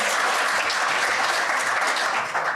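Sustained applause from an audience at an award presentation ceremony, dense steady clapping filling the room, loud and continuous without a break.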